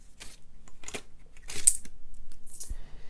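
Loose coins are tipped and sorted out of cash budget envelopes, making several short metallic clinks and rustles spaced apart, close and fairly crisp, with no talking.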